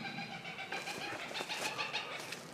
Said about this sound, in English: it's definitely a bird